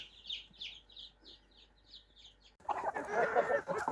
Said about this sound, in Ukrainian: а тепер всі кури, які їли там біля хліва, біжать сюди.